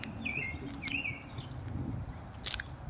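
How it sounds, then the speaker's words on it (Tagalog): Several birds chirp in a tree in short, repeated high calls, fairly close, over steady outdoor background noise. "Ang daming mga ibon."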